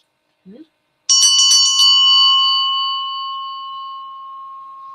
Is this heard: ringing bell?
yes